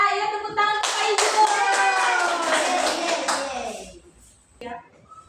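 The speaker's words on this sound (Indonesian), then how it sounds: "Ayo tepuk tangan Pak Ijun." Children in a classroom clap their hands for Pak Ijun, a short burst of quick, close claps layered with excited young voices and singing, then fading into quiet with a brief voice at the end.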